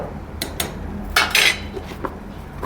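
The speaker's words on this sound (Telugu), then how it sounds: "ఇప్పుడు బాగా కదిలించుకోవాలి, కోవా బాగా కరిగే వరకు." A spoon scrapes and clinks against a metal pot several times in irregular bursts as khoa is stirred to melt while making a sweet; no voices.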